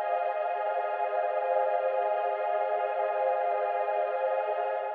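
Atmospheric synthesized pad processed with a very long reverb decay, a dense, steady wash of sustained mid-range tone holding at an even level from start to finish, with no voices.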